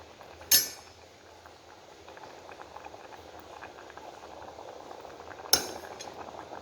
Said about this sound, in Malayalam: കറിയും തിളച്ച് വരാൻ തുടങ്ങിയിട്ടുണ്ട് നല്ലപോലെ തന്നെ ഇളക്കി കൊടുത്തിട്ട്